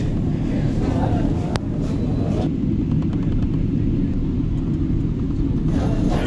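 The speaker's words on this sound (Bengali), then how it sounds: "এখন রানওয়ের দিকে নিয়ে যাওয়ার চেষ্টা হচ্ছে।" A Boeing 777 airliner taxis toward the runway at Shah Amanat International Airport in Chittagong, heard from inside the cabin as a steady, loud low engine rumble that stays even throughout.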